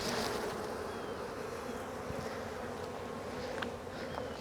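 Honey bees shaken from a hive frame, buzzing as a dense, steady hum of many insects at once, constant and close, with no voices.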